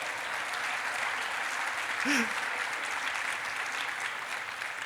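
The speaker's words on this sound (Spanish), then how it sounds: "Denle un aplauso al Señor por eso" A church congregation applauds during a Sunday service, a broad, even patter of many hands heard from a moderate distance, with a brief voice rising over it midway.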